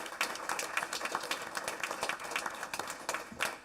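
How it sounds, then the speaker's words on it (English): Applause from an audience at a board meeting, a faint, steady patter of many hands clapping at a distance, continuing without talk. "So we can give them a big round of applause"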